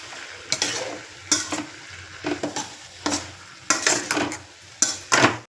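A spoon stirs potato and brinjal masala curry with spring onions in a pan: about eight close, distinct scraping strokes in an uneven rhythm, with a faint sizzle between them and no talking.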